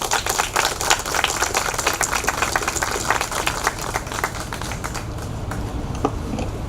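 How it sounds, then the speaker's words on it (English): A crowd at a Salvadoran American Day celebration in New York applauds a public works minister, dense steady clapping that holds for several seconds before thinning slightly toward the end. "Please give him a big round of applause."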